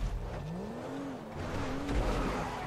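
Race cars in GTA 5 hum with a steady engine drone, a revving tone rising and wavering over a low road rumble, at moderate level.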